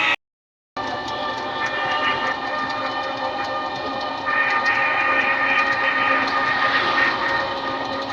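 Train noise at Gobardanga railway station: a steady, loud rumble with bright tonal bands after a brief silent gap near the start, growing slightly louder midway, with no talk.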